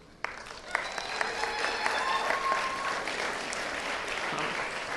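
Convocation audience applauding a graduate in a hall, a sustained wash of clapping from many hands with a few whoops, steady and fairly distant.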